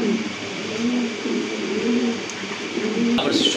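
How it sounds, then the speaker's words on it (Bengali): A tiger pigeon, a male bird offered at a pigeon sale, coos in repeated low rolling phrases close by, over steady background noise with a brief rustle near the end. "আরেকটা কবুতর চলে আসছে, এটা হচ্ছে টাইগার শোকিং এর একটা নর কবুতর"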